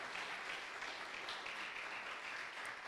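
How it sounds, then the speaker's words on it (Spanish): A church congregation applauds in a steady, even wash of clapping that fills the room at moderate level, with no voices rising above it. "Alguien déle un aplauso al Señor."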